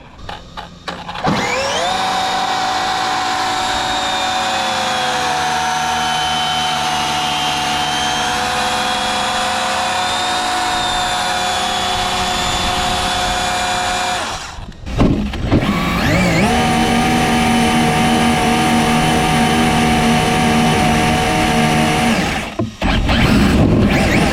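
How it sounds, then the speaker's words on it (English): A Team Associated Hoonicorn 1/7-scale RC car doing a burnout gives a loud, steady electric whine that holds for about fourteen seconds, stops briefly, then revs up again into a second sustained high-pitched burst. "You guys want to see a burnout?"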